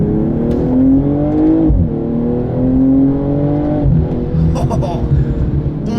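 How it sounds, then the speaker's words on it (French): A 2022 BMW M240i xDrive's six-cylinder engine drones steadily at low revs, a deep smooth hum that rises and falls with the throttle, heard from inside the cabin with someone talking over it. "Mais on a quand même la petite note du 6 cylindres"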